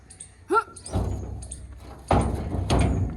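A heavy wooden door is hauled and set in place, with loud thumps and scraping knocks at close range, while people talk nearby.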